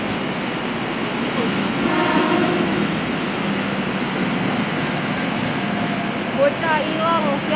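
A KRL commuter train rolls past a railway station on an evening in Jakarta, producing a steady broadband rumble and rush of rail noise throughout, with faint squeals and a voice speaking over it.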